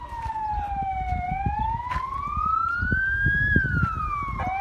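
Ambulance siren wailing loud and close in traffic, its pitch sweeping slowly up and down over a steady road rumble for the whole stretch.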